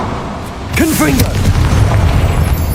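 A Confringo spell blast in Hogwarts Legacy, a fiery magical burst that booms and then rumbles on as a sustained roar, heard loud and close among chirping spell effects.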